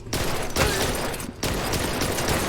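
Gunfire in the light-gun video game Blue Estate: a dense, continuous crackle of rapid shots with a couple of sharper bursts, fairly loud and without any speech.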